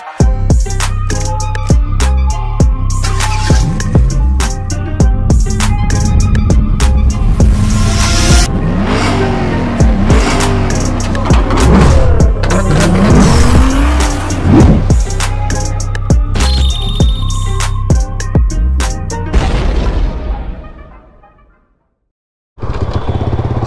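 A close engine runs and revs unevenly for about twenty seconds, like a Honda Wave 100R motorcycle underway on the road, then cuts out abruptly before a brief return.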